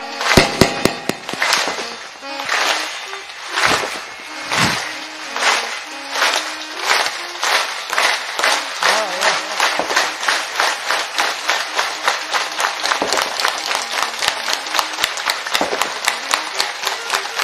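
Kirtan audience clapping hands together in a steady, accelerating rhythm, a dense crowd of sharp claps filling the space loudly and continuously without talk.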